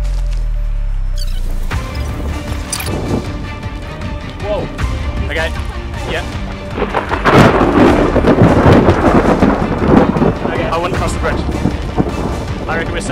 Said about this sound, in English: there is ridiculous thunder and lightning